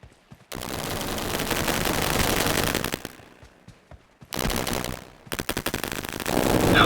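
M4 rifle firing in the video game BGMI, with several loud bursts of rapid automatic gunfire separated by brief pauses, the last burst running to the end.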